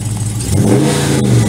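A Dodge Scat Pack's engine revs hard for a burnout at a car meet, a loud, close, rising throaty roar that holds at high revs.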